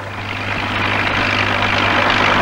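A tractor engine runs close by with a loud, steady low diesel rumble and broad mechanical noise, gradually building slightly over a couple of seconds, with no talking.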